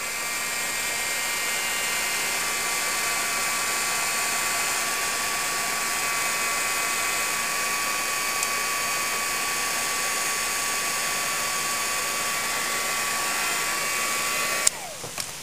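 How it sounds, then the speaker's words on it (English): A loud hair dryer blows steadily on acrylic paint, its even whirring roar holding without a break for about fifteen seconds before it cuts off abruptly near the end. "Sorry for the loud blow dryer."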